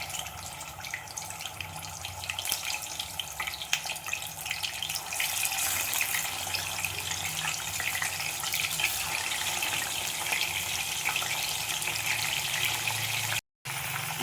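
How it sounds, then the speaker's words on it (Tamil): Masala-marinated chicken wings for honey chicken wings fry in hot oil with a steady, close, dense sizzling hiss that runs throughout, broken by one brief dropout near the end, with no talking. "இப்போ இதை எண்ணெயில் போட்டு நம்ம பொரிச்சிடலாம்"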